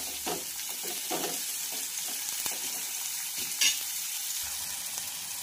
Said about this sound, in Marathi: तर कांदा आपल्याला हलकासा गोल्डन होईपर्यंत फ्राय करून घ्यायचा आहे